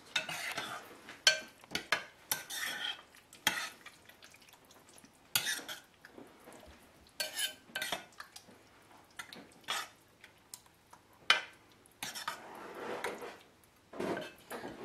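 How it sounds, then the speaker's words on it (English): Lasagna filling ingredients stirred in a bowl with a utensil, soft irregular scraping and wet squelching strokes, quiet and close, with brief pauses and no voices. "I like mixing my ingredients individually so they get nice and evenly mixed."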